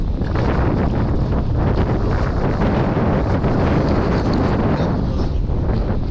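Strong wind blows steadily by a lake, roaring over the microphone as loud, continuous buffeting with no breaks and no voices.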